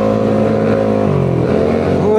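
A Vespa scooter engine revs loudly and close through a large exhaust, holding a thick, steady droning roar that shifts lower partway through, with no speech over it.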